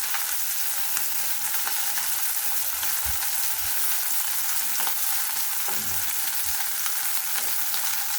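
Small chapila fish frying until crisp in a pan of hot oil, giving a continuous bright sizzle with occasional faint pops and light bumps, heard up close without talking.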